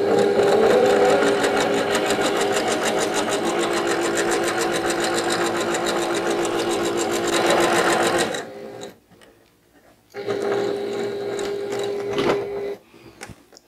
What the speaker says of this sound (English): Pick another strip and start sewing.